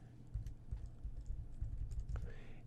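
Keys tapped on a computer keyboard in a quiet room, a quick uneven run of soft close-up clicks at a modest level.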